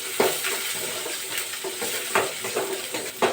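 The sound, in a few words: crushed onions frying and stirred in a pan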